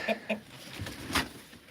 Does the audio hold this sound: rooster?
yes